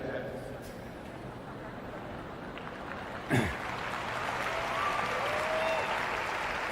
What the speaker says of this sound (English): That's why you're clapping